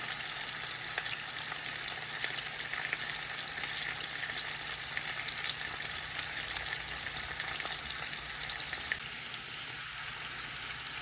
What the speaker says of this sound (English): I am searing my oxtails